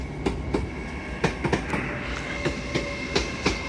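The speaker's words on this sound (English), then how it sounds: "802, working a service from Liverpool Lime Street to Newcastle." A Class 802 train runs into a platform at York station, wheels clicking over rail joints in an irregular rhythm beneath a steady rumble and faint squeal, fairly close.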